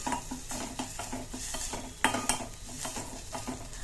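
Onion with ginger-garlic paste lightly fried in a pan for an egg dish, a spatula scraping and clinking against the metal in a quick rhythm over a faint sizzle.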